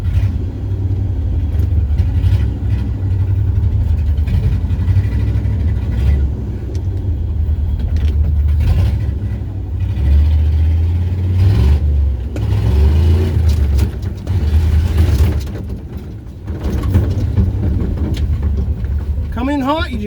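A Ford F600 truck engine rumbles loudly as the truck drives back toward a garage, a heavy steady drone with some revving, while someone talks over it.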